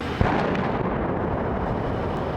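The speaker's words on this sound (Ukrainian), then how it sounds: "Запалювальні московицькі боєприпаси надвечір розкриваються у небі за околицею на схід від Костянтинівки" Incendiary phosphorus munitions burst in the evening sky on the eastern outskirts of Kostiantynivka, a sharp report opening into a sustained, rumbling roar that fills the whole stretch, loud and distant-sounding.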